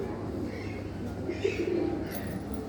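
Low, throaty cooing from pigeons in a loft with mesh cages, a continuous soft warble that swells briefly midway, close and moderately quiet over light background hiss.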